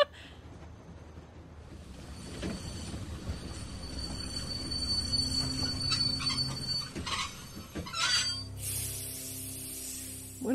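A train rolls steadily along the tracks in the zombie game The Walking Dead, with a continuous rumble, metallic rattling and squealing wheels that swell loudly before dropping off abruptly near the end.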